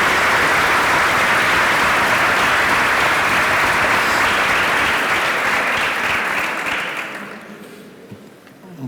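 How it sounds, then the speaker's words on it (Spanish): A large audience gives sustained, loud applause for young people at an education event, a dense wash of clapping that holds steady for about six seconds and then tapers off. "un aplauso gigante a estos jóvenes que están construyendo un futuro"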